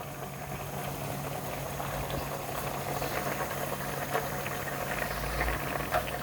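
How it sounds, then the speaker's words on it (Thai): Coconut milk soup with salted fish and tamarind leaves boiling in a pot: a steady, dense bubbling and simmering hiss with a low hum underneath, continuous and fairly close, with no talking. "ถ้า ความเปรี้ยวนี่ไม่พอเราก็ตั้งให้มัน เดือดอีกสักนิดหนึ่ง"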